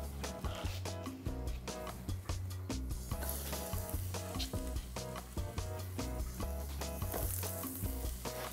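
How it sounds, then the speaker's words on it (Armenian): Sandwiches fry in vegetable oil in a pan on a gas stove, giving a loud, steady sizzle with crackling spits and occasional stirring or scraping noises throughout, no talking. "Սենդվիչները առաջարկում տապակել բուսայուղով"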